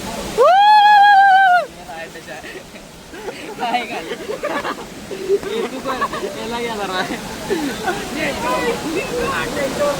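The Ozarde waterfall at Koynanagar rushes as a steady, broad roar beneath lively crowd chatter, with a loud shrill whistle-like call near the start and people talking over the water throughout.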